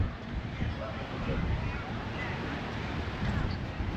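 Steady wind at Lake Geneva, Wisconsin buffets the microphone in a constant broadband rush, with faint indistinct sounds beneath the gusty noise.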